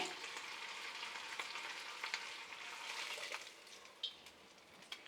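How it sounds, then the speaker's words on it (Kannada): A tempering of green chillies and grated ginger for moong dal bonda soup sizzles steadily in a hot pan, a dense continuous crackle with a few sharper pops near the end and no voices. "ನೋಡಿ ಒಗ್ಗರಣೆ ಸೇರಿಸ್ತಾ ಇದ್ದೀನಿ"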